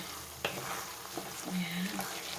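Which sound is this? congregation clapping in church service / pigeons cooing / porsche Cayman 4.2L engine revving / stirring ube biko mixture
stirring ube biko mixture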